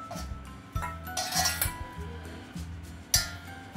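A metal spoon clinks against a pot or dish while oil is added during preparation of aloo bhujiya, with repeated bright chinks and scraping over a steady rhythmic background.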